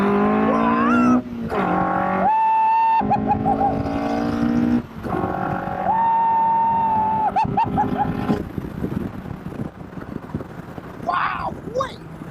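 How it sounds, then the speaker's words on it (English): A Duratec-powered Indy R car's exhaust sits close by, rising in revs through several hard acceleration pulls with pitch sweeps and gear changes, loud and raw, with a voice over it at moments. "the exhaust is just here, right by my ear. So when I open it up like this"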